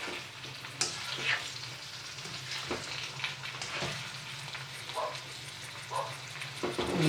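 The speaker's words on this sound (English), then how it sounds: "So then you literally just leave this to simmer for another 2 to 3 minutes." Ackee and saltfish simmering in a tin pan, a steady soft sizzle and bubbling with occasional light scrapes and taps of a utensil against the metal.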